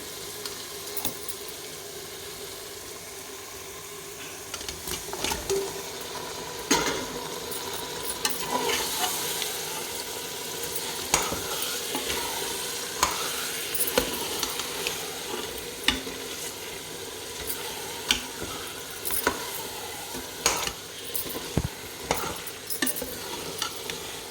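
Chicken frying in an onion-tomato masala, with a continuous sizzle under repeated scraping strokes of a spoon stirring the pan, the stirring growing busier and more clattery toward the end.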